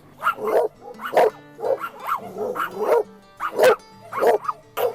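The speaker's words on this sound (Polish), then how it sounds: "Dzisiaj mam wyjątkowe szczęście do psów. Nie no, wcześniej też były, ale nie wiem, jakaś zmiana pogody idzie czy coś. Ujadają dzisiaj wyjątkowo" Several dogs bark repeatedly behind a gate along railway tracks on the Portuguese Camino, loud close bursts in an uneven rhythm of about a dozen barks, alone with no speech.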